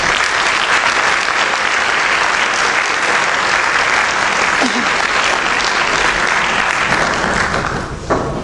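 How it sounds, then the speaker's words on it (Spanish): Audience applause for two secondary-school students, Diego Sancho and Sofía Marqués, at a school commemoration event in Caspe, Spain; steady, dense clapping fills the room for about eight seconds, then tapers with a thump at the end. "Un aplauso para ellos."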